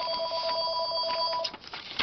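A phone rings with a sustained electronic tone, fairly loud and close, stopping about three quarters of the way through before faint handling sounds.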